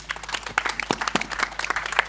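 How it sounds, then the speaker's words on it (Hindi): Audience applause at a film trailer launch event, a steady burst of many hands clapping close by, with no voices over it. "एक बार जोरदार तालियां।"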